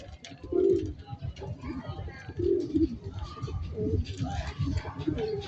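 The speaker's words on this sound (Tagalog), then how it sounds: "Ito na yung isa nating kalapate." Soft, low racing pigeon coos repeat a few times up close, mixed with faint rustling and quiet background murmur.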